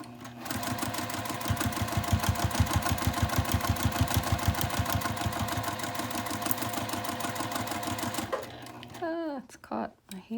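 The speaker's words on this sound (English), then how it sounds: "Sewing a 1/4 inch seam allowance." A sewing machine stitching a quarter inch seam on fabric for a sling, a steady fast mechanical chatter that runs for several seconds, then stops, with a voice speaking at the end.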